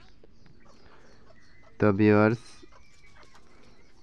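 A desi hen gives a loud, close, drawn-out cluck of about half a second, standing out against a quiet farmyard background, with someone talking briefly nearby.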